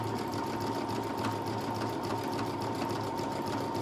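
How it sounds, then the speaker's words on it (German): A Brother Innov-is 200 sewing machine stitching a buttonhole, a steady fast mechanical hum and whir running evenly throughout, close and alone. "die Nähmaschine macht richtig schicke Job, wie es sein sollte"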